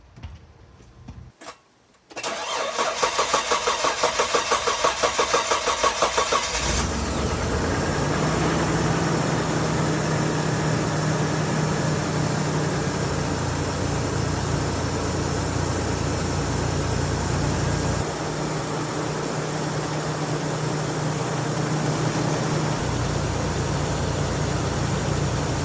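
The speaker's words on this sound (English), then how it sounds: "start the Montero, make sure everything is running correctly" A Mitsubishi Montero with the SOHC 6G74 engine cranks briefly, catches and settles into a steady idle with a faint ticking rhythm, the level shifting slightly as the idle speed drops partway through, no talk.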